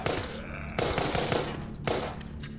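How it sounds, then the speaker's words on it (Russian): Rapid automatic gunfire from the zombie shooter video game The Walking Zombie 2 crackles in several dense bursts, close and steady, with brief gaps between volleys. "Я ж тебя в голову стреляю."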